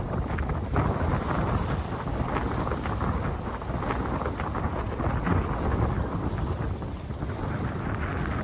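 Loud, steady roar of wind buffeting the microphone aboard a solo sailboat as a dark storm cell passes overhead in roughly 17 to 18 knot gusts, continuous and unbroken, with no voices.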